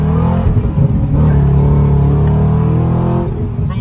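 A 2007 Chevrolet Corvette Z06, C6 generation, with its LS7 V8 rumbles loudly and steadily up close with a sustained deep revving drone and no talk over it.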